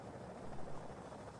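Damaged helicopter in a video game set in Afghanistan, a brief burst of continuous rotor whir with slight swells in loudness, heard alone without talk.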